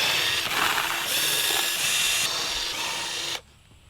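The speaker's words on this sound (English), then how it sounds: "So I'm going to release the form by moving the screws." A power drill backs screws out of a wooden casting form holding a three-day-cured Quikrete concrete splash block outdoors, a steady whirring drone lasting a few seconds up close before cutting off abruptly.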